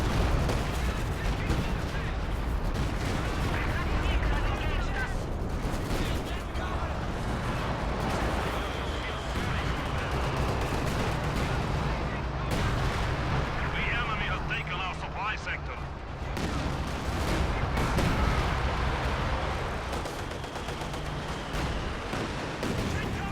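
Heavy artillery barrage in the video game Company of Heroes 2 during a 2v2 match, a dense continuous roar of booming explosions and gunfire throughout, under steady excited commentary.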